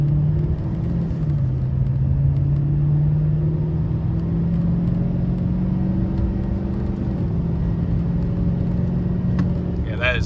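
A 2023 GMC Sierra 3500 pickup engine drones low and heavy while towing about 15,000 pounds, pitch climbing slowly as it pulls hard and builds boost, with a constant rumble throughout.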